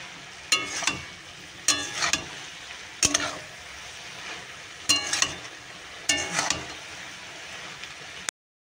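Food stirred in a cooking pan after turmeric and sugar are added: about six separate bursts of scraping and clattering spoon strokes, each rising sharply and fading over a faint background hiss, with no talk.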